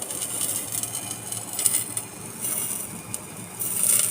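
A knife cuts into fish cooked wrapped in banana leaf, making a steady, close rasping and scraping as the blade saws through the leaf and flesh, with no voices.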